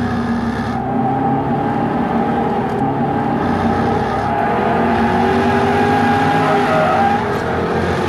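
A loud, continuous Jaguar XKR-S sports car engine roars at speed in third gear, its exhaust note droning steadily throughout with no voices.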